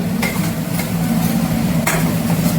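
Eggplant and green chilies frying in a pan, a steady sizzling hiss with a few sharp scrapes and taps of a spoon as they are stirred, close and continuous with no talk.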